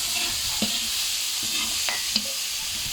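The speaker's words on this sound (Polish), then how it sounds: "na tym tłuszczyku wołowym, wołowo-roślinnym e, smażył" Beef frying in rendered beef and vegetable fat for laghman gives a loud, steady sizzle close up, broken by a few light scrapes and clicks of stirring, with no talking.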